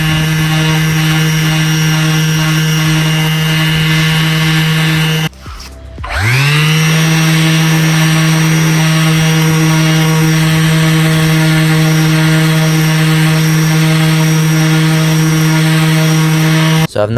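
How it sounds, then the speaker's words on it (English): An electric sander fitted with a 600-grit disc works over a Subaru Impreza body panel, giving a steady loud whine that cuts out briefly partway through, then spins back up and runs on evenly. "all I'm using is a 600 disc on the electric sander"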